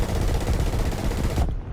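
Rapid-fire 20mm cannon of the Retel 20 vehicle in War Thunder, a dense burst of fast repeated shots for about a second and a half, loud and close, then cutting off abruptly.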